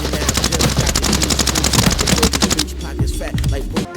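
Rapid automatic gunfire from a gun in a tactical shooter video game, a loud, close, continuous burst lasting over two seconds before dropping to a few scattered quieter shots and clatter.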